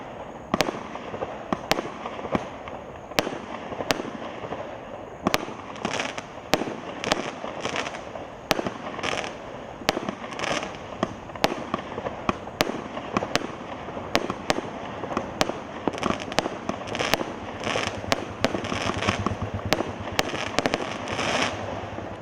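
A consumer firework cake, a vertical cake, fires shot after shot in a steady, rapid rhythm of sharp bangs and crackles lasting over twenty seconds, loud and continuous with no talking.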